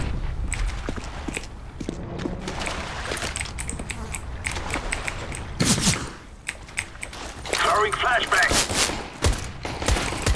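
Gunfire in the tactical shooter Counter-Strike: Global Offensive: rapid, close shots and bursts over a busy mix of footsteps and game noise, with loud clustered volleys partway through.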